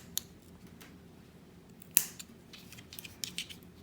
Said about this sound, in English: go ahead and cut the cotton bows like that